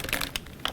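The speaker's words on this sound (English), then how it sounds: "I would just fold it in like this and fold it over" Gift wrapping paper being folded over and crinkled by hand, with short close crackling bursts of rustle over less than a second, heard alone.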